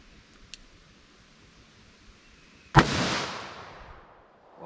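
A single sharp gunshot from a .44 Magnum revolver during a soft-point ballistic test cracks loud and close, then leaves a decaying outdoor echo.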